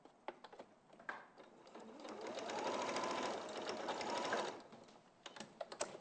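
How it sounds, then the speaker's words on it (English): Sewing machine stitching down one side of a V, a soft rapid whirr that swells for about three seconds, with light clicks and taps before and after. "Pivot it round and just sew down the other side."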